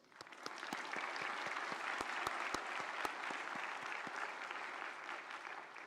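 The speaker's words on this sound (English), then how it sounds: "Let's have a huge round of applause." A large audience at a doctors' convocation ceremony at Vigyan Bhawan, New Delhi, gives sustained, even applause, with individual sharp claps standing out against a steady crowd roar throughout.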